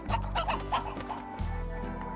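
Chickens clucking in the video game Slime Rancher, a few close, clear clucks in quick succession over a low steady background drone.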